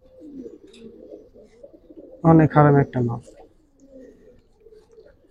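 Pigeons of the Giribaz flying breed keep up a low, continuous cooing close by, and a voice cuts in briefly partway through.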